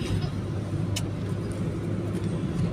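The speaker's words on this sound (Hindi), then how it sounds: "मम्मी के साथ में हम लोग आ गए हैं, गाड़ी में बैठ गए हैं और अब चल रहे हैं" A car carries passengers along a road, a steady low engine and road rumble heard from inside the cabin throughout, with a brief faint click partway through.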